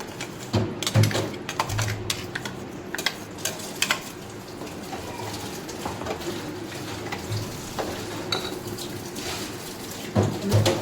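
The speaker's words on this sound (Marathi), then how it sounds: "त्याच्यात गरम पाणीच टाकून थोडंसं हलम पाणी तेही त्याच्यात ओतून दिले" Hot water is poured into a pan of simmering pea and potato curry, giving a steady splashing and bubbling with occasional clanks of the pan and spoon.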